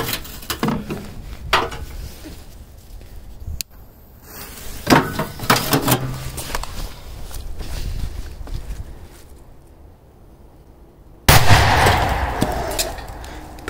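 Big firecrackers explode inside a washing machine, with sharp loud bangs at intervals, one sudden crack and a heavy blast followed by rattling, crackling debris and a resonant metallic drum.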